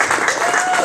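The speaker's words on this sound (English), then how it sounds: "So a round of applause for Marco's wife, by the way, over there." Brief burst of audience applause at a comedy night in a bakery and cafe, steady clapping filling the room with some crowd murmur mixed in.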